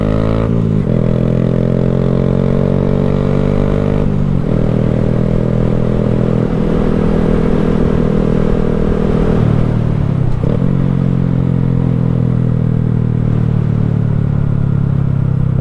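A 2020 Honda Grom motard pulls away on a dirt trail, its small single-cylinder engine revving loud and close in rising, shifting pitches, with brief drops between gears and a steady throaty drone.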